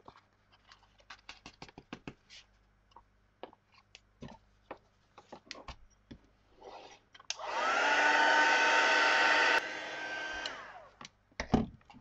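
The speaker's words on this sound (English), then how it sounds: "I'll then sprinkle on some gold embossing powder and heat emboss that." Scattered light taps and clicks give way to a heat tool's steady whirring blow for about two seconds while it melts gold embossing powder, then it shuts off and the tapping resumes.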